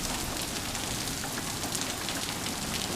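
Large raindrops fall steadily on surfaces in a dense, even hiss of patter that is fairly quiet, with no voices.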